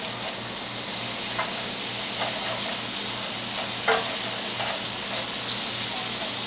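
Food sizzling and frying in butter in a pan on a gas stove, a continuous loud hiss with a few faint clicks and scrapes of stirring, no talk.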